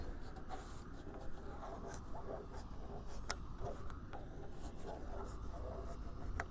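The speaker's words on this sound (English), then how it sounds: "this is how you're going to mark the barrel all the way around so you can cut it evenly in half." A marker scratches a line around the curved wall of a 55-gallon steel drum, a faint continuous rubbing and squeaking with small taps, close and quiet with no voices.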